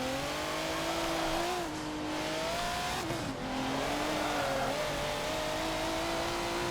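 Race car engine in the video game Forza Motorsport 7, a loud steady drone whose pitch dips twice at gear changes before climbing again through continuous acceleration.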